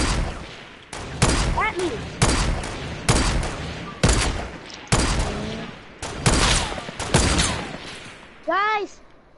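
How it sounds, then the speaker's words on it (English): Sniper video game gunfire arrives as a string of loud, separate shots about a second apart, each with a short ringing tail. An excited voice shouts between the shots. "Someone's shooting! At me!"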